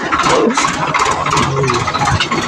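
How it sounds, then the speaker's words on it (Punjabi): A 4x4 tractor engine, a model 855, runs close by with a chugging, uneven mechanical drone, holding steady over the short stretch. "ਆਪਣੇ ਗਵਾਂਢੀਆਂ ਨੇ ਟਰੈਕਟਰ ਲਿਆਂਦਾ 4x4"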